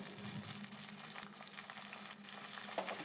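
Onion and eggplant pieces fry in a pan for a curry, making a soft, continuous sizzle with light crackling, fairly quiet and alone.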